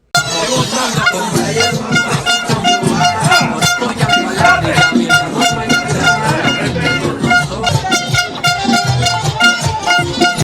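Air horns blare loudly and nearly nonstop at a crowd gathered for a speech in New Jersey, several overlapping blasts forming a harsh, sustained din across the whole stretch.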